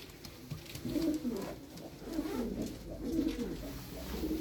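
Pigeons coo repeatedly in a Kocaeli pigeon shop, their low rolling calls rising and falling in a steady rhythm at moderate distance with no talk.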